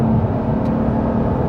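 Porsche engine with a PDK gearbox pulling hard in fourth gear, a loud, steady, close-up drone that holds for the whole moment with no voices.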